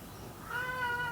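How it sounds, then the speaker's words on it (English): A cat lets out a single drawn-out complaining meow, close and fairly clear, rising out of faint background noise halfway through. "Yes, that's my cat complaining."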